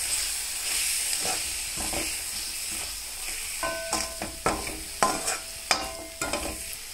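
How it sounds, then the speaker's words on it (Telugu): Chili powder and coriander powder are stirred into ginger and garlic frying in a pan for an egg curry in coconut milk, with a steady sizzle and hiss and sharp scraping stirs growing louder toward the end. "ఇప్పుడు కారపొడి, ధనియాల పొడి వేసి బాగా కలుపుకోవాలి."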